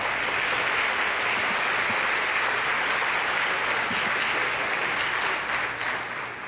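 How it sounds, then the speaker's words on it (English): A crowd at a dairy festival pageant applauds the winning balloonist, a thick continuous wash of clapping that stays loud and steady before easing slightly at the end. "Give the balloonist a round of applause"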